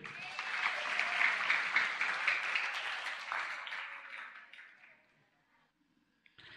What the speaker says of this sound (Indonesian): Tepuk tangan untuk putri.